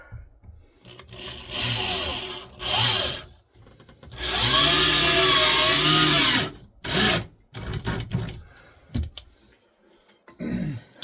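A 6-amp Black & Decker power tool, used in a woodworking job, whines in several bursts of varying length, the longest lasting about two seconds, with quieter handling noises between runs.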